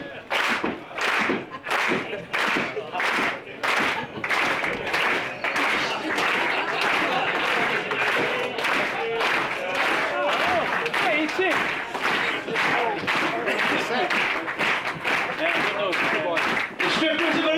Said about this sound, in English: You can start a slow clap.